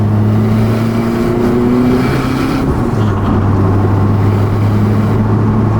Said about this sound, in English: You can hear that wastegate's a lot louder once you start coming on boost